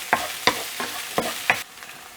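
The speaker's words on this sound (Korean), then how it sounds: "이렇게 볶다 보면은 햄에서 기름이 빠져나와요" Sliced ham stir-fried in a pan with garlic and onion: about five rhythmic spatula scrapes sweep across the pan over a soft, steady sizzle, close and fairly loud, with no voices.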